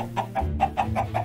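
Blocky Minecraft chicken clucking in a quick series of about six short, bright clucks at a steady rhythm, fairly close, over a low background hum, with no talking.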